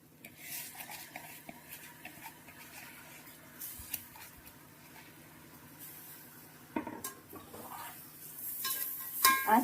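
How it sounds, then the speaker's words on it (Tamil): Rice frying in oil in a pot for ghee rice, stirred with a spoon: soft scraping and clinks over a faint sizzle, close, irregular and quiet, growing busier toward the end. "ஒரு 2 நிமிஷம் இந்த எண்ணெயிலேயே ஃப்ரை ஆகட்டும்."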